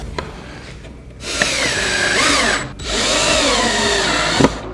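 A power drill drives screws through an L bracket into a cabinet, two sustained whirring bursts rising and slowing in pitch, close and alone with a short click at the end.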